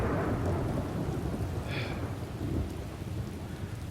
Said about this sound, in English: Now I'm wet from the rain.